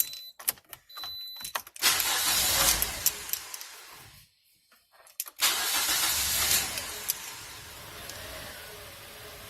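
A car engine with a bad ground connection cranks and catches twice, roaring up then settling, with a pause between the two starts and some clicks beforehand, in a garage.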